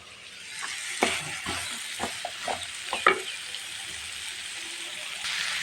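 Vegetables and pre-fried shrimp are tipped into a hot pan with mustard paste, bringing a steady sizzle broken by a handful of scraping stirs and clatters, fairly close and moderately quiet.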